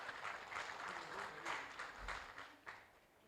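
Audience applause at a career summit panel discussion, fairly faint and distant clapping that rises and gently fades over a few seconds.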